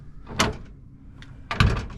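A van door is handled and shut twice, a sharp knock followed later by a heavier thud, close by with no talking.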